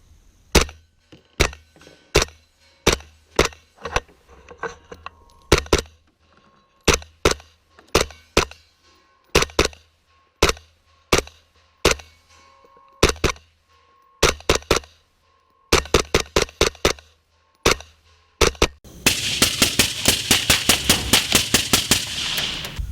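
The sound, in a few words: suppressed rifle fire, Grey Ghost Precision 10.5" Specter upper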